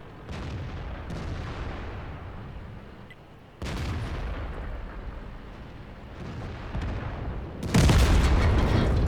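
Tank guns fire in a World of Tanks battle, heavy rumbling booms with sudden onsets at a few points over a continuous low engine-like roar.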